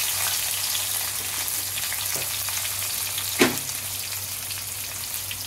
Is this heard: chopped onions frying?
yes